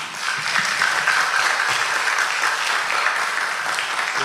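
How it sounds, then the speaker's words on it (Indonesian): Steady, dense applause from a seminar audience honoring a speaker, a continuous clapping wash that stays at an even level throughout with no voices over it. "Kita beri aplaus dulu Pak Tom"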